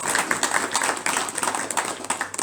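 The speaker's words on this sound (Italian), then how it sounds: "Quindi veramente un bel applauso ve lo meritate." Audience applause fills a hall at an award ceremony for the first edition of a prize presented at a residence: dense, continuous clapping with scattered sharper claps, steady and fairly close for a couple of seconds.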